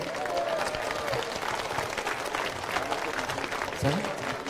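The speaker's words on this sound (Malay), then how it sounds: "Bagi tepukan kepada meja Kamarudin" Scattered applause from a crowd at an outdoor political gathering in Sungai Rapat, Gopeng, welcoming a party representative, moderately distant and mixed with crowd murmur.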